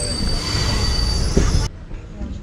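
A train rolls from Mandapam onto the Pamban sea bridge with loud, steady rumbling and squealing wheels close by, then the noise cuts off sharply near the end.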